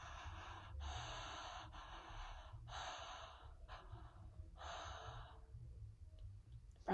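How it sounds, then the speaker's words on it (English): Deep mouth breathing during a breathwork session: long, noisy inhales and exhales repeat in a steady rhythm of about five breaths, each a broad airy rush close to the listener with no talk. "And then you're just going to be breathing through the mouth."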